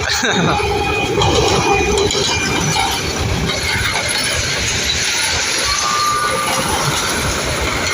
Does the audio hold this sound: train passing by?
yes